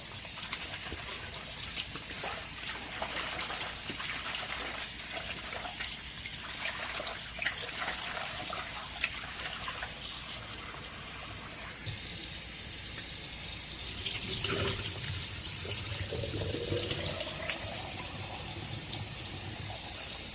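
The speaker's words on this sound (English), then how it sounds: "Rinse it one more time and make sure it's clean" Tap water runs steadily into a sink while chicken gizzards are rinsed, a continuous close splashing flow that turns louder and fuller partway through as the stream is opened up.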